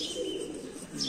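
Pigeons kept in a breeding coop during hot summer give a short, soft coo, faint and brief, without any voices.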